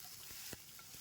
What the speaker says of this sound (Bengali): এরপর আমি দিয়ে দেবো কেটে রাখা টমেটো, দিয়ে একটু ধিমে আছে ভাজতে হবে।